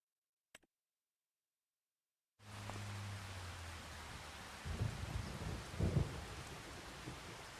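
A thunderstorm on a farm opens with a single faint click and a stretch of silence, then steady rain sets in with a low rumbling roll of thunder and a couple of louder thunder bursts near the end.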